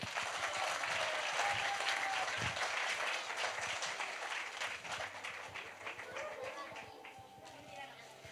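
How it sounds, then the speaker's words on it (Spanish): A crowd at a year-end modern dance recital applauds young girl students aged four to six with dense, sustained clapping that fades gradually, alongside faint crowd murmur. "¡Fuerte el aplauso para ellas!"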